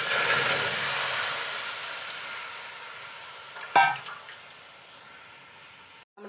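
Jaggery syrup pours into a bell-metal uruli for payasam with a soft sizzling hiss that slowly fades, broken by one brief clink near the end.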